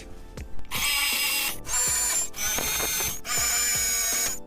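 Power drill boring 5.5 mm holes for M4 bolts in an amp rack for a 1991 GMC Sonoma ST, running in three loud whirring bursts with short pauses between, close up and with no talk.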